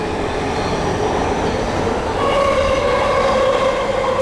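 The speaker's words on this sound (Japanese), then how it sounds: "列車の到着の様子を見てみましょう。" A Tokyo commuter train rumbles into a station with platform doors, steadily and close by, its noise swelling slightly as it draws in, with a faint rising whine from the motors.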